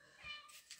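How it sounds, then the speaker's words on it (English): A cat meows faintly in the background of a quiet indoor room, one short, thin cry with no talking over it. "if you hear a pathetic meowing in the background,"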